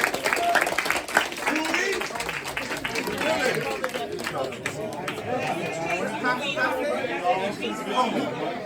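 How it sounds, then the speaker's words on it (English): Round of applause at a community safety meeting in a conference room, clapping mixed with steady crowd chatter and voices throughout, fairly close. "You give a round of applause, Jimmy."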